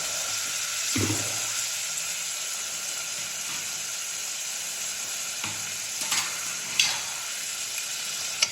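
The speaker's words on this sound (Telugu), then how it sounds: "సరే చక్కగా ఉప్పు పసుపు కారం అంతా ముక్కలకి పట్టేలాగా కలుపుతున్నాం" Vegetable pieces stirred with salt, turmeric and chili powder in a hot pan, a continuous close sizzle with occasional scraping and clatters of the spoon against the pan.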